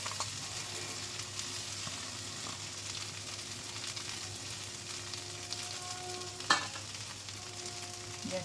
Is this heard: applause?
no